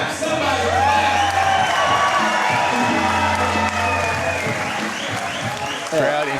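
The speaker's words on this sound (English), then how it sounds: "Oh, come on, if you're gonna clap, somebody clap!" Audience applause and scattered cheers at an SRG Promotions boxing event, a steady wash of clapping mixed with crowd noise and an announcer talking over it throughout.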